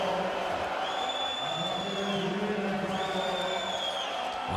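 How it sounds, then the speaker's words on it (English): A basketball home crowd at a Champions League game between Reggio Emilia and AEK groans and murmurs in despair at a foul call, a steady, dense roar of many voices with whistle-like tones overhead. "the home crowd are in despair at the moment"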